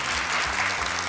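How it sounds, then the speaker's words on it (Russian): A short burst of dense audience applause on a game show set, steady and fairly loud for about a second. "Браво, аплодисменты."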